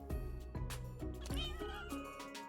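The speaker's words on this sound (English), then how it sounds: "Oh my goodness, I found another cat." A ginger cat in the Minecraft video game meows several times, with repeated short, clear cries that rise and fall over a steady musical background.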